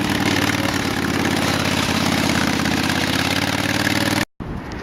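Ford tractor engine running at a steady idle, a loud, close, even diesel-like rumble that cuts off abruptly near the end before a brief restart of noise.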